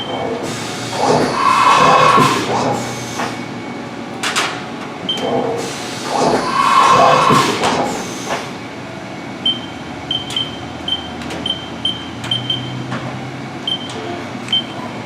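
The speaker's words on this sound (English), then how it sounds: "Next we'll go ahead and simulate a tool change." Haas VF-2SS vertical machining center running a tool change: two long whirring mechanical surges with clunks, then softer steady machine hum punctuated by short regular clicks or beeps, loud and close.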